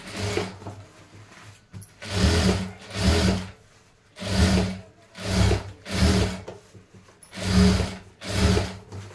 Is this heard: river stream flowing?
no